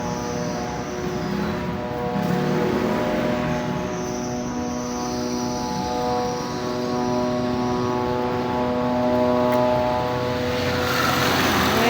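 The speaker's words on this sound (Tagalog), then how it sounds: "nagugulog lang ng drone yan" A drone hums steadily overhead in a sunny wooded area, a sustained layered buzz that holds at a fairly even, moderately loud level with no one talking.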